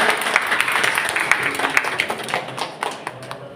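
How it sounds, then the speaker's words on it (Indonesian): Students clap for the Pro team at a school debate competition in Makassar, a lively burst of many hands with sharp individual claps, strong at first and tapering off gradually. "Beri tepuk tangan yang meriah"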